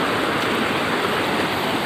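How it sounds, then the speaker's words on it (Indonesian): Mursala Island waterfall stream rushing close by in a steady, dense roar of flowing water, unbroken and alone with no voices. "Ini dia kawasan masih tetap Mursala dan aliran air terjun Mursala."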